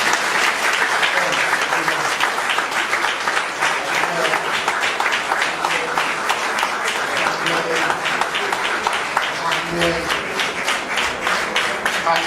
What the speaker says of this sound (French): On applaudit aussi le Père.